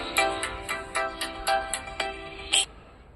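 A phone ringtone chirps in a rapid series of short electronic bursts, close and clear, ending with one brighter tone.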